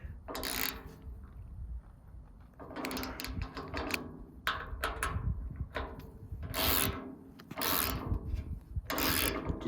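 Allen head bolts being tightened on a tailgate stop for a 1959–66 GM Fleetside pickup, heard as bursts of scraping, grinding turns separated by short pauses, close and fairly loud.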